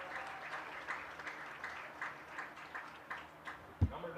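A crowd at a boys lacrosse game, Oregon vs Sauk Prairie, claps for a player during introductions: soft, fairly distant applause with scattered louder claps over a few seconds.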